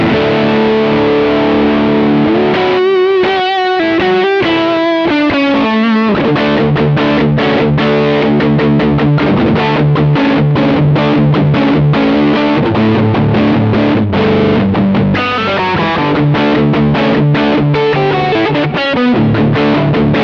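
An Ibanez RGIXXV 25th anniversary electric guitar played through a distortion pedal on the neck pickup, loud and continuous with dense strummed chords and sustained riffs throughout, no voices.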